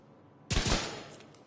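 A single gunshot from a two-bullets-per-shot gun in The Division 2, played on PS5, cracks out loud and close after a quiet lead-in, then trails off in a fading reverberant tail.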